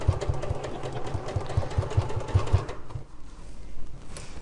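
Domestic sewing machine stitching a cushion cover during free motion quilting: a fast, even mechanical whirr with rhythmic needle thumps for a few seconds, then it stops, leaving quiet room sounds.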